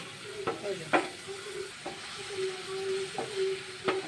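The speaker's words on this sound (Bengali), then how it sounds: "রসুন কুচিটা দিয়ে আমি এখানে নাড়াচাড়া করবো" Chopped onion and garlic stir-frying in hot cooking oil, a steady close sizzle punctuated by several sharp scraping stirs of a utensil in the pan.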